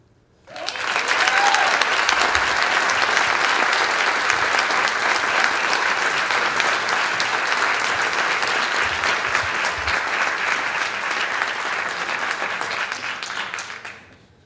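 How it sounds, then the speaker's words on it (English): Audience applause at a small business reveal event in Fredonia, sustained thick clapping that swells in quickly, holds loud and even for over ten seconds, then fades out at the end. "let's give another round of applause for Grace."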